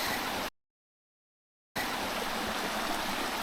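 Water from a waterfall rushes down a hill stream in the Bilaichhari area of Kaptai, Rangamati, as a steady broadband roar that cuts out into full silence for about a second before resuming.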